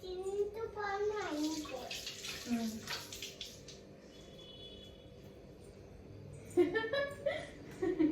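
Cucumber being rinsed under running water while making cucumber dal in a home kitchen, a steady splashing stream with bursts of pouring, alongside a voice and adult talk.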